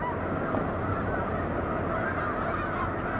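A large flock of snow geese honking on Cayuga Lake, a dense continuous chorus of overlapping calls from many birds at a distance.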